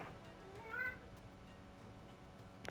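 A pet cat meows once, soft and somewhat distant, in a quiet indoor space with faint background hiss and no voices.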